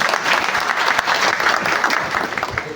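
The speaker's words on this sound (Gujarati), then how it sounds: "એક વાર હું તમને તાળીથી વધાવી દઉં." Audience applause at a satsang gathering, a dense, steady burst of many hands clapping close and loud throughout, with no talk over it.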